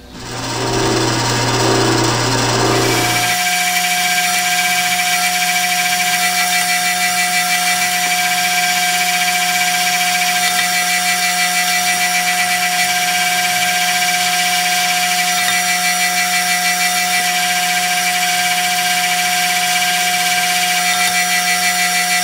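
A power drill bores the centre hole through a metal four-way tool post, running as a loud, steady high-pitched whine for over twenty seconds after a brief lower hum at the start.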